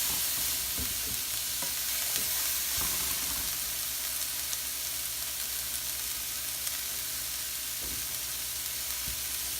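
Cauliflower sizzles steadily in a hot frying pan while being stirred, with a constant frying hiss and a few soft scraping knocks from the spoon, close up and with no talking.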